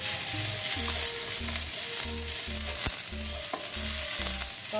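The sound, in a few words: garlic flowers frying in pan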